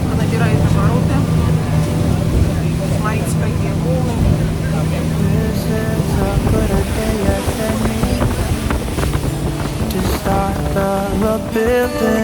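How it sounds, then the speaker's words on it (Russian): A speedboat motor roars steadily as the boat gains speed over waves, a loud continuous drone mixed with wind buffeting and water rush, with music playing over it. "Лодка набирает обороты."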